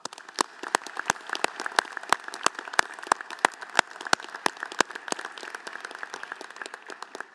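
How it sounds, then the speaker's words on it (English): A graduation audience at a doctoral hooding ceremony claps, sharp individual hand claps ringing out distinctly over a lighter scatter of applause, with an uneven, sparse rhythm. "I think you deserve a round of applause."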